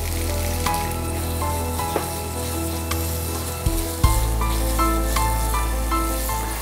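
Coriander chicken masala sizzles steadily while being sautéed in a non-stick pan, a loud continuous frying crackle with occasional scrapes and stirring knocks of the spoon.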